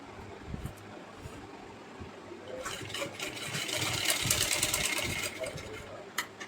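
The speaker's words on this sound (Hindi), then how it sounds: "तो चलिए इस तरीके से इसको सिलाई लगा लेते हैं।" Electric sewing machine stitching a fabric strip for a handmade deity outfit, a soft whirring run that grows louder and steadier midway under faint background noise.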